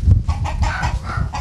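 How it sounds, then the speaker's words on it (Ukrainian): Orlov breed chickens clucking steadily at close range, a dense run of short overlapping clucks with a low, busy bed of farmyard noise beneath. "кури орловські, орловської породи"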